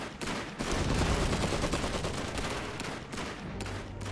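Battle in the Iron Harvest strategy game, with rapid bursts of gunfire and heavy cannon booms overlapping in a dense, continuous barrage at fairly close range and no talking.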